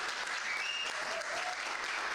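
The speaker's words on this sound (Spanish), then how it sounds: "Ahí levanten la mano, un aplauso." A church congregation gives a short burst of applause, dense, even clapping from many hands filling the room, fairly close and steady throughout, with no one speaking over it.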